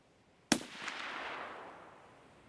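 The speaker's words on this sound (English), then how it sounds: "I'm gonna shoot 4 at the fence." A single sharp gunshot is fired at a fence on a farm, a loud close crack followed by a long fading reverberation, with no talking.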